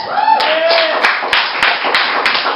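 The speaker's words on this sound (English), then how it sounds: "can we give him a round of applause?" An audience claps in a dense, continuous round of applause, with a voice talking over the clapping throughout.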